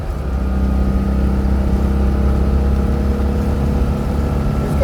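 A car's engine drones loud and steady from inside the cabin while it drives a roundabout, a sustained low throaty hum with no breaks.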